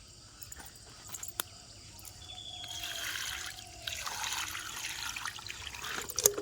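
Water used for washing mangoes is poured away, a soft trickling and splashing that builds gradually and stays fairly faint, with a few small knocks.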